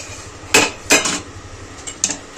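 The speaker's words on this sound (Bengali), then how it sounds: "ঢাকাটা খুলে দেবো।" Someone lifts a metal lid off a pot of potatoes boiling in water. Two loud, close clanks of metal on metal sound in quick succession, followed by a lighter clink, with no talking.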